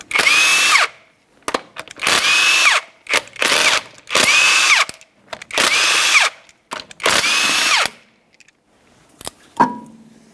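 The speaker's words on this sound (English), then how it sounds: "we're going to remove all 5 of these lug nuts using a 19mm so we can remove the wheel." An impact-style power tool with a 19mm socket whirs in repeated bursts, about six spins of roughly a second each with short gaps, loosening the lug nuts on a 2012-2015 Honda Civic front wheel, ending with metallic clinks.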